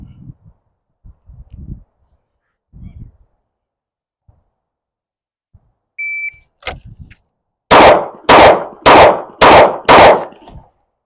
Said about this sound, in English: 5 rounds on the left target with the Glock 19X